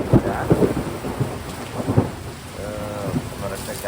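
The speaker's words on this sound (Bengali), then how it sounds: "ন্যাচারাল রেইন মনে হচ্ছে আমি বাংলাদেশের কালবৈশাখী ঝড়ে দাঁড়িয়ে আছি" Heavy thunderstorm rain in Albany, New York, a dense close roar of downpour with loud bursts and gusty thumps, and a faint tonal whine partway through.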